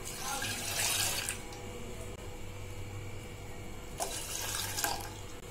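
Half a tumbler of milk poured for a homemade milk pudding, two short bursts of splashing liquid separated by a quieter pause, close and fairly soft.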